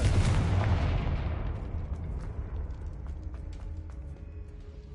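A Confringo fire spell blasts in the Hogwarts Legacy video game: one heavy, loud explosive boom at the start, then a long rumbling decay with faint crackling debris trailing off.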